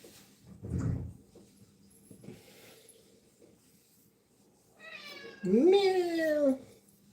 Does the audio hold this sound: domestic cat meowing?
yes